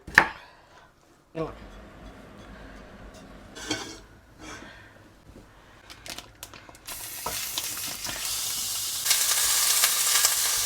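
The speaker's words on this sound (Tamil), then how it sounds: "கேரட்டெல்லாம் இவ்வளோ சின்னதாக வெட்டணும் பார்த்தீங்களா இவ்வளோ சின்ன சின்னதாக வெட்டுங்க" Carrots being chopped into small pieces in a home kitchen, knife strikes against a board coming as a few sharp taps and then a busier run of cutting, with steady kitchen noise building toward the end.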